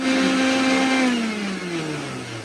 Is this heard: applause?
no